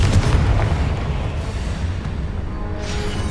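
Explosive Confringo spell blast in Hogwarts Legacy, a deep booming detonation with heavy low rumble that rolls on and fades, loud and close, with no talking.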